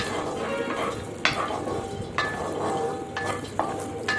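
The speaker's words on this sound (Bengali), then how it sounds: "আমি কিন্তু কাজু আর কিশমিশগুলো ভেজে নিচ্ছি।" Cashews and raisins frying in ghee in a hot wok, a steady close sizzle with a few sharp scrapes and clanks of a spatula against the pan.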